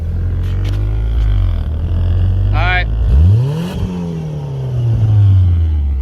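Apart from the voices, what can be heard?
Mitsubishi 4G63T engine revving, exhaust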